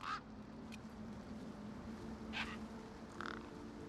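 Scattered bird calls in the game Beyond a Steel Sky, three brief honking squawks spaced apart over a steady low ambient hum.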